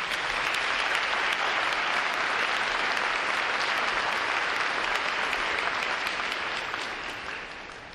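A large crowd applauds the staff at a Navy recruit training graduation ceremony at Great Lakes, a broad, even roar of clapping that fills the space and fades slightly at the end.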